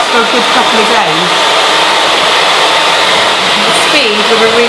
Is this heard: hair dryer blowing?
yes